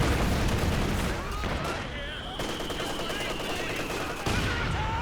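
Mortar fire in the Company of Heroes 2 real-time strategy game sounds as dense, loud battle noise. Rapid gunfire and explosive bursts overlap continuously, with a thinner whistling tone in the middle.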